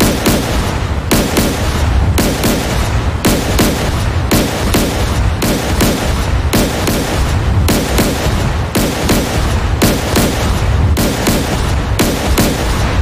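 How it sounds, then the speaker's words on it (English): A frigate's guns fire in the DCS World combat simulator, heavy booming rounds repeating at a steady rhythm of about one shot per second, loud and close, with no talk over them. "And return fire."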